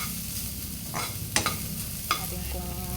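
Sliced ginger sizzles steadily in hot oil in a pan, with a few sharp scraping clicks of a utensil as it is stirred, close and moderately loud with no talking.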